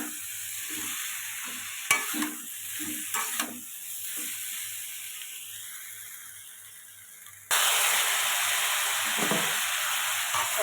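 A spoon stirs tomatoes with turmeric and salt as they fry in a pan: a steady, close sizzle with repeated scraping strokes, a few sharp clicks, then a louder, brighter hiss in the last few seconds.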